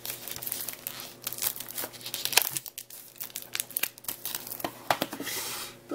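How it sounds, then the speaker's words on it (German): Close, crackling crinkles and short tearing bursts as plastic shrink-wrap is pulled off a PS4 game case for WWE 2K19, irregular rustling spurts over a faint steady hum. "So, dann packen wir das Ganze mal aus hier."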